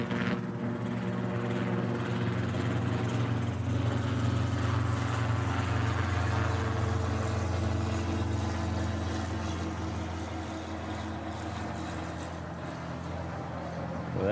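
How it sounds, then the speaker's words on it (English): A Boeing 717 airliner at Honolulu airport gives off a broad, sustained jet roar with a deep rumble, loudest early then slowly easing as it passes at a distance, with no voices. "This is a 717. This one's coming in from Niihau."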